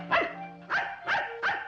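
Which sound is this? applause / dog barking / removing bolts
dog barking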